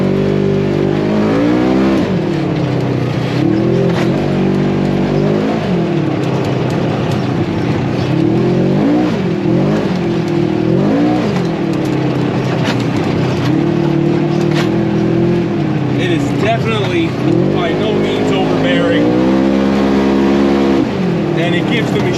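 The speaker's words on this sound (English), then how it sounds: "here we are out on the trails in our 1000XP with the RPM exhaust on it, and like I said in the garage, it is very tame" A Polaris RZR 1000XP side-by-side fitted with an RPM exhaust rides along trails, its engine droning loud and close with repeated rises and falls in revs, a steady throaty rumble running throughout.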